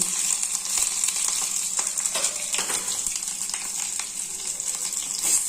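Mustard seeds, cumin, chana dal, green chili and ginger fry in oil in a small pan, giving a steady close hiss with faint crackles and a few light stirring scrapes.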